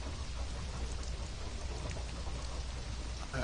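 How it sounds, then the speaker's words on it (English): Rain falls steadily in the video game Conan Exiles, an even, dense hiss of drops on surfaces with a faint low rumble beneath, continuous and unbroken with no voices. "I need some rain. Which there is plenty of here"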